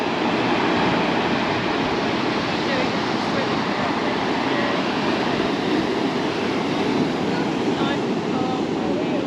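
Ocean waves splash onto the rocks at El Golfo on Lanzarote's coast, making a loud, steady, broadband roar of surf that continues without pause.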